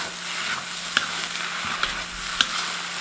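Scallions stir-fry in a wok with seasoning, giving a continuous close sizzle with a few sharp metallic spatula clinks and light scraping, with no speech.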